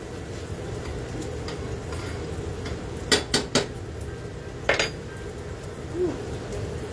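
A lid is set onto a cooking pot on the stove: a few quick metallic clanks in a cluster, then a second pair of clinks, over a low kitchen background hum.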